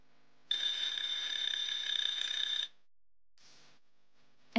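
Eilik desktop robot's countdown timer alarm sounds as one steady, bright electronic tone lasting about two seconds, followed after a pause by a shorter burst; close and clear with no talk.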